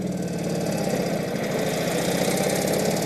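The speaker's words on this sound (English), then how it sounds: "Pull your suicide clutch, your shifter up to first gear, stop. Look, okay, throttle, clutch, rocket back, timing back, and we're off." A 1948 Indian Chief motorcycle with a suicide clutch and hand shifter, its engine running in a steady, loud, close throbbing chug with no break.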